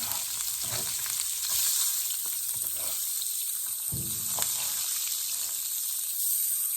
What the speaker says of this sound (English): I'm going to start throwing some cabbage in there.